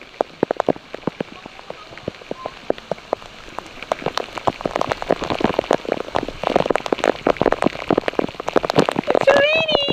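Rain falls near an underground river at Big Lagoon, scattered drops pattering and building into a denser crackling patter, with brief voices toward the end.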